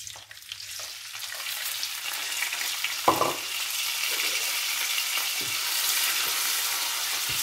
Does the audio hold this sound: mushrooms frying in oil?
yes